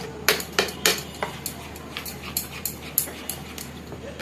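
Dahi vada batter is beaten vigorously in a bowl, giving repeated sharp utensil clinks and knocks in an uneven rhythm, fairly close, with no talking.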